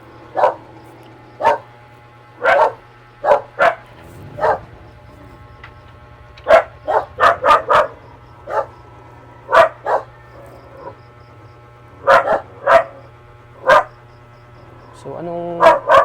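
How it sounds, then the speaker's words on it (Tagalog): A dog barks repeatedly in short, loud, sharp bursts at irregular intervals over a steady low hum. "Tumatawa pala yung aso pag may may tao"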